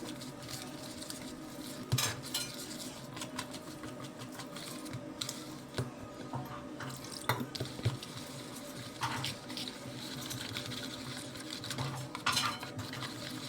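Pakora batter stirred in a bowl as water is worked in, a steady close clatter of spoon against the dish with scraping and soft wet patter, no talking.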